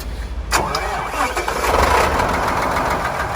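A generator engine on road-building equipment cranks briefly and catches at once, jump-started by a SPARK portable jump starter with no battery fitted, then settles into a loud, steady, close-up running roar.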